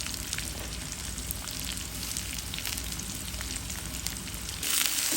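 Spices, onion, salt and a little turmeric frying in hot oil for a Cox's Bazar hotel-style yardlong bean stir-fry, a dense, continuous crackling sizzle throughout that grows slightly louder and brighter near the end, with no voices.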